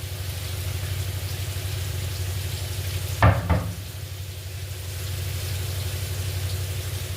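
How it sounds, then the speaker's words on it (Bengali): Potatoes fry in a pan as poppy seed paste is added, a steady low sizzle with a brief burst of clatter and splatter midway, then continuing frying. "আলুটা খুব ভালো করে ভাজা হয়ে গেছে। এবার আমরা পোস্তটা দিয়ে দেবো।"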